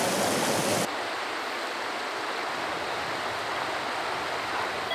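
A river in the Scottish Highlands rushes steadily, a dense broadband wash of flowing water that stays constant and close for the whole stretch, with no voices over it.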